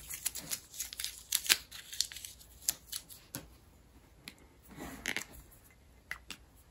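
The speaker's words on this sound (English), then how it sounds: "Take this tape off as well." Tape peeled off a watercolour card, heard as a series of close, crisp tearing and crackling bursts, some quick and clustered, with quieter pauses between them.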